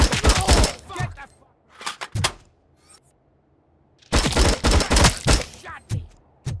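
Bursts of gunfire crackle in RoboCop: Rogue City, a dense volley at the start, a few sharp single shots midway, then another sustained loud fusillade after a short lull.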